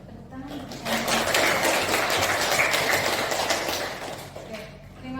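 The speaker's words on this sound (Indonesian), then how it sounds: "Tepuk tangan." A tenth-grade class breaks into applause in a classroom, a dense burst of clapping swelling after a second, holding strong, then tapering off near the end.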